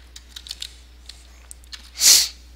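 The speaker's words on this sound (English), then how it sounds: "and you just type that search in" Computer keyboard being typed on, a short search entered as scattered light key clicks, followed by a louder brief burst of noise near the end.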